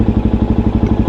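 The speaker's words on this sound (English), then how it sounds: "So if I start my bike," A motorcycle engine idles close by, its low, even exhaust pulses thumping in a steady rhythm throughout with no talk over it.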